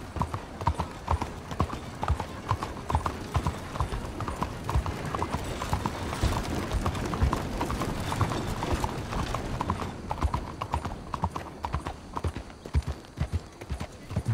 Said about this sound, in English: Sound of the horse changing depending on what surface.